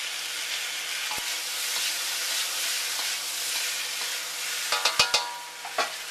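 Pre-cooked, still slightly pink beef goes into a hot pan for Szechuan steak, a steady loud sizzle with metallic clanks of the utensil against the pan near the end.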